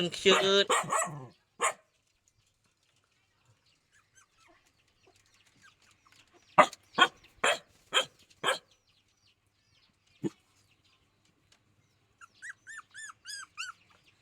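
A dog barks in short bursts, a sharp cluster of several barks mid-clip and a single bark later, with birdlike chirps near the end and voices at the start.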